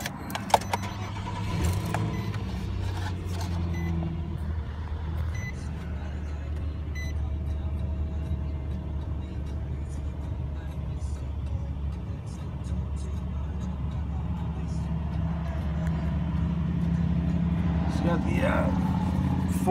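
Nissan Frontier pickup truck engine starting and then idling steadily, a low continuous rumble close by with faint key jingling, while someone talks over it.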